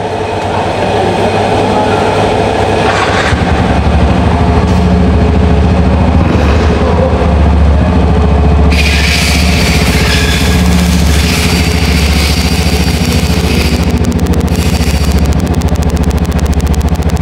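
A bored-out Yamaha Mio M3 scooter engine, rebuilt to 150cc with a Honda Sonic piston and a new gasket, runs at a steady idle, loud and continuous with no talking.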